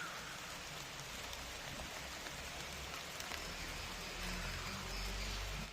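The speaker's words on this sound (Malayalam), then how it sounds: "മഴയാണ് ഇവിടെ നല്ല മഴയാണ് ഇവിടെ" Steady heavy rain pours down in a dense, continuous hiss, growing a little louder near the end, with no voices.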